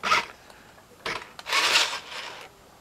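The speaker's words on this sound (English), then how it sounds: "I take my screwdriver." A screwdriver works on a Robot Wars Growler remote control toy, giving short scraping, rasping bursts of metal on plastic, close and fairly loud, separated by brief pauses.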